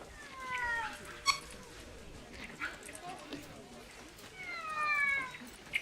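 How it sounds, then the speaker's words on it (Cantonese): A cat-like meowing animal call in the game Planet Zoo, several drawn-out wavering cries rising and falling over faint background noise, with a short sharp click between them. "好似貓叫咁樣啲叫聲。"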